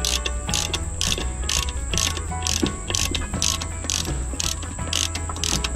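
A hand ratchet clicks in quick, regular bursts while turning two small bolts to push a Mitsubishi Pajero rear brake rotor off its axle, close and loud with steady rhythm.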